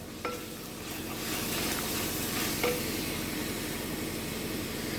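A spoon stirs egg biryani masala with slit green chillies in a pan, a steady close scraping and sizzle running throughout with a couple of sharp metallic clinks.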